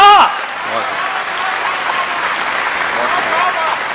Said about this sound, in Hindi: भाई तालियां कम थी